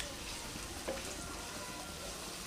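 Ginger and garlic paste frying in a pan while a fish dish is being cooked, giving a faint, steady, even sizzle with no talk over it.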